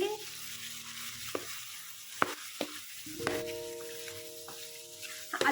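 Spices for chicken kadai fry in a pan with a low sizzle while a spoon stirs and clinks several times, and a faint steady hum runs underneath.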